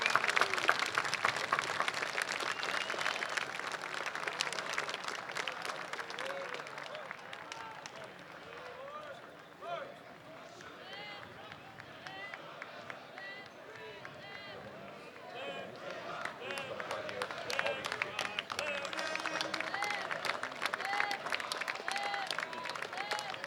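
An outdoor crowd at the Torrance Armed Forces Day Parade and swearing-in ceremony in 2015 claps in a sustained round of applause, dipping midway and then swelling again, with voices mixed in.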